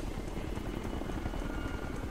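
A helicopter flies in Ghost Recon Future Soldier, giving a steady, fairly faint whirring drone with a broad noisy wash and no clear rotor beat, unchanging throughout with no talk.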